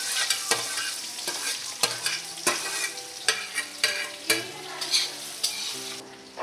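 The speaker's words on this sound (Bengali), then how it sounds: "এবারে পেঁয়াজের কুচিটা দিয়ে দিলাম" Chopped onion hits hot oil and is stirred, a close, steady sizzle broken by sharp scraping strokes roughly every half second, with a faint tune running underneath.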